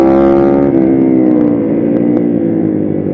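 A Kayo MR125 motorcycle engine while riding on a practice track, a loud, steady near drone with the pitch easing slightly lower, no voices.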